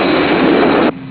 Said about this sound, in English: No, Kyrano, that's Thunderbird 1.